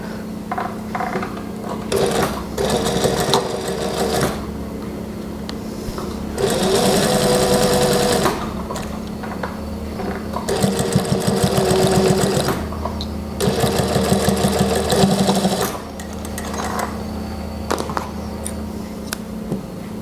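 A sewing machine stitches a trouser waistband in several fast, whirring bursts of mechanical needle clatter. Short pauses separate the bursts, and the machine sounds close and fairly loud.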